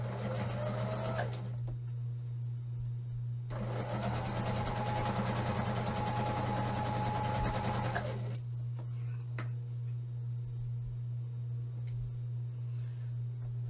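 A sewing machine stitches rows of a friendship star quilt block together in bursts of fast, steady whirring stitching, close up, with short pauses between runs over a constant low electrical hum.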